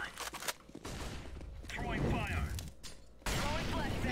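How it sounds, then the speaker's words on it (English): A flashbang grenade is thrown in a counter-terrorist shooter game. Bursts of gunfire and thuds run throughout, and a sudden loud blast cuts in near the end, with voices talking underneath. "Flash in middle. Flashing. Deploying flashbang."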